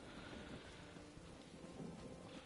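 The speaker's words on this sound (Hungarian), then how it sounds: "itt is esik az eső, hál' Istennek." Rain falls steadily with distant thunder rumbling underneath in the video game The Elder Scrolls Online, a soft, continuous wash of rain with no talking.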